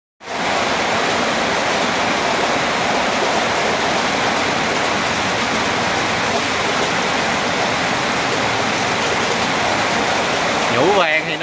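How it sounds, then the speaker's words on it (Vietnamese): Heavy rain pours down in a dense, constant roar from start to finish, loud and close, with a brief rising tone near the end. "Mưa lớn á."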